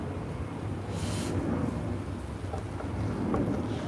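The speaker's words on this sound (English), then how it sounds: "Just waiting for that rain to ease off," Steady rain pours down at Birmingham Airport, a dense, continuous wash of falling water with low rumbling underneath, evenly loud throughout with no voices.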